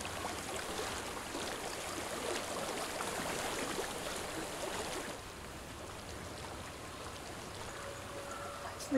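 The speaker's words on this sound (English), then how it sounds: "I hear water." Flowing water in the video game Hellblade: Senua's Sacrifice, a steady broadband rush like a stream that softens slightly partway through and runs on without speech.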